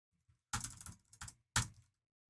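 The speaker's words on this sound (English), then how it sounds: "So we just type in text" Fingers tap a computer keyboard in a few quick bursts of close, crisp keystrokes, a short flurry followed by a pause and a final single clack, otherwise quiet.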